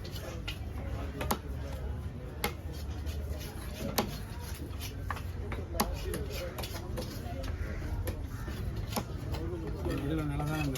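Knife chopping through fish at a Kasimedu fish market stall, repeated sharp chops at an uneven, quick pace, close and clear over a steady busy background with voices talking.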